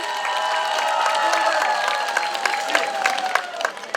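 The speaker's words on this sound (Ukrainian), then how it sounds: "Гучні оплески Ірині" An audience at a Trinity (Green Holidays) celebration applauds loudly for Iryna, a sustained crowd clapping with a few cheers, while a tonal hum or music drone runs steadily underneath.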